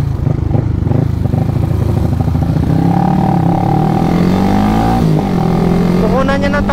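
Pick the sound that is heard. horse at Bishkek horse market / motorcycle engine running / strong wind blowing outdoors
motorcycle engine running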